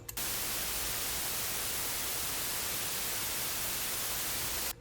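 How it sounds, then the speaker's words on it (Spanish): Steady white noise from a VCV Rack software noise generator fills the clip with a constant, even hiss that starts and stops abruptly, loud and unbroken, with no voice over it. "Esto es el ruido blanco más propiamente, y eso es todo lo que obtiene un generador de ruido."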